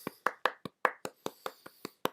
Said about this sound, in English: nice little elegant clap here